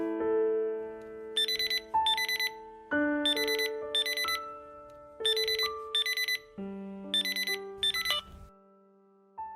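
An incoming call rings on a phone as a repeating electronic melody, loud and near, in short musical bursts separated by brief pauses, with no voices.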